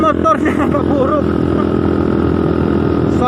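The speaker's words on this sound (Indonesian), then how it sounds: "Soalnya dipengaruhi oleh knalpot motor." A motorcycle engine and exhaust drones steadily at close range throughout, riding along a rough road on the way to a waterfall, with faint voices mixed underneath.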